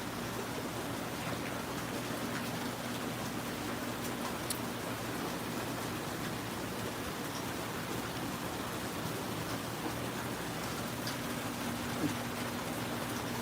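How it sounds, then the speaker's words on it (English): Steady rain falls outdoors in an even, unbroken hiss of drops on surfaces that lasts throughout with no talk. "But I'm sick of all of this rain."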